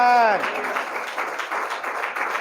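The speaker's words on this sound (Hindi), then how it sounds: "क्या हम प्रभु की महिमा की ताली बजा सकते हैं?" Church congregation clapping during a sermon, a few seconds of mixed, uneven applause beginning just as a voice or tone fades, moderately loud throughout.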